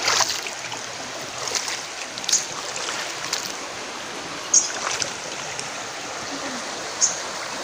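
A forest stream flows and rushes continuously in a broad, steady hiss, with a few sharp splashes and clicks scattered through it.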